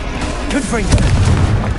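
A deep boom from the Confringo fire spell in Hogwarts Legacy lands close and heavy, a short explosive thump with a rumbling tail, while a voice speaks over it.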